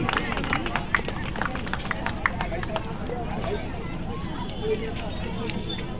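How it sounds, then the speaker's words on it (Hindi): A large rally crowd claps loudly at a political event, a dense wash of applause and crowd noise running steadily throughout with some voices mixed in. "सब लोग अपने लिए एक बार जोरदार तालियां बजाएं।"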